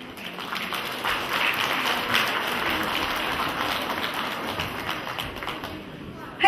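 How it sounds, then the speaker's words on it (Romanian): An audience applauds a young girl's poetry recitation at a village cultural event, a steady burst of clapping lasting several seconds without a clear break. "Haideți să o aplaudăm pe Daria, căci a recitat foarte frumos."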